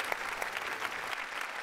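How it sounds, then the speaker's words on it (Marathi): Audience applause on the set of a Marathi TV comedy show, a steady wash of clapping from a studio crowd that runs through the whole moment at even loudness, with no talk over it. "त्यांच्या नावानं जोरदार टाळ्या झाल्या पाहिजे जबरदस्त."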